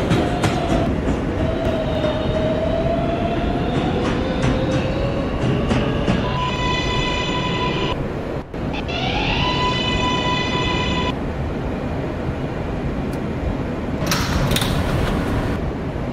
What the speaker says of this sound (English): This is a Potatoburg bound N local train